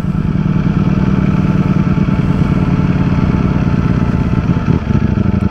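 A Ducati Streetfighter V4 motorcycle engine runs with a loud, close, steady rumble and dense pulsing throb, sustained throughout without talk.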